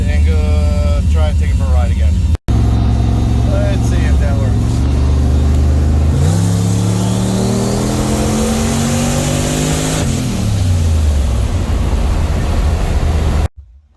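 A turbocharged LS-swapped Ford Mustang engine revs loudly on a drive, its pitch sweeping up and falling back through several strong pulls with a brief cutout early on.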